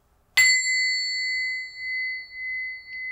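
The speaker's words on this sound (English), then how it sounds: "I really ring the bell at home" A single bell is struck once at home and rings out clearly, its bright tone sustaining and slowly pulsing as it fades over a few seconds.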